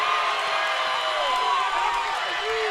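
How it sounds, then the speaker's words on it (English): Home crowd at an Orange Park versus Oakleaf high school boys basketball game roars and cheers continuously, a loud, dense wash of voices with a few whoops rising above it. "The Orange Park crowd is into it right now."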